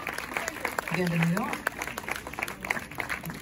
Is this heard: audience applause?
yes